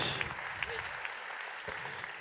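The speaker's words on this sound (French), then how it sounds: "Mesdames, Messieurs, tonnerre d'applaudissements pour cette jeune demoiselle prometteuse, Jade Alcalde Popovski." An audience at a New Year's greetings ceremony applauds a promising young athlete. The clapping is steady and fairly faint, heard from a distance in a hall, with a few sharper claps standing out.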